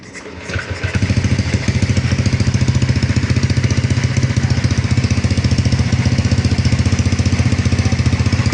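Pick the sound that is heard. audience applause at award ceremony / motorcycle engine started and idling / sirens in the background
motorcycle engine started and idling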